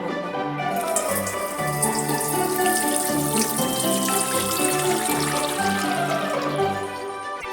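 A babbling stream of water, a sound effect in a children's musical fairy tale about a snowflake melting. Steady rushing and trickling water runs throughout alongside a tonal musical accompaniment, with no voices.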